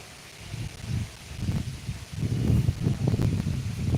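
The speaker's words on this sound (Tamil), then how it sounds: "பாருங்க பாருங்களேன் காற்று எப்படி அடிக்குது அந்த மரத்தில்" Wind gusts buffet and rustle through tree leaves at the Pranavamalai Kailasanathar hill temple, in uneven surges, growing stronger toward the end, with no voices.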